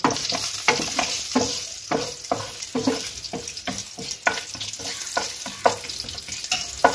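Cashews fry in hot white oil in a wok with a constant loud sizzle, while a spatula stirs and scrapes in quick repeated strokes close up.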